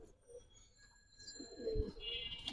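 Pigeons at a Gribaz and coloring pigeon farm in Old Dhaka give soft, faint coos over quiet background noise, with a brief louder thump and some fluttering sounds toward the end.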